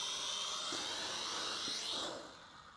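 A small drone whines steadily with high rotor buzz as it flies and sets down for a landing, the motor tone dipping and fading toward the end.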